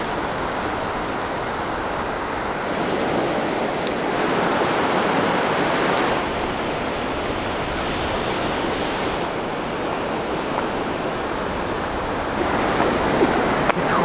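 Ocean surf breaking on an African beach where boys play in the waves, a steady close roar of crashing water with swells rising and falling throughout, no voices.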